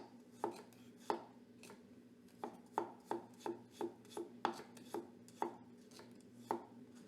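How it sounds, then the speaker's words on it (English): A knife cuts through a garlic clove on a cutting board in about a dozen crisp, evenly spaced taps, close and fairly quiet over a low steady hum, with no voices. "I'm just going to cut this clove in half"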